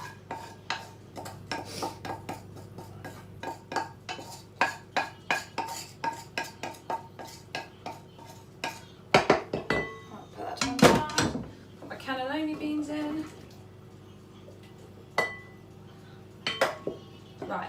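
A spoon clinks and scrapes as wilted mixed vegetables are tipped into a big bowl in a home kitchen, making a quick run of close metallic taps followed by scattered clatter and rustling, with a voice talking in between.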